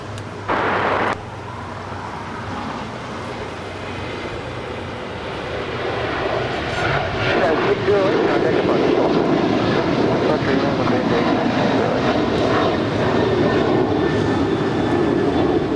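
An airliner takes off from runway 25 right at Los Angeles International Airport. Its broad engine roar builds steadily from moderate to a loud, sustained rumble, with faint talk underneath.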